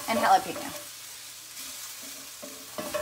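Garlic and jalapeno cooking in a pan give a soft, low sizzle with brief stirring noises at the start and end, fairly quiet and close. No one speaks.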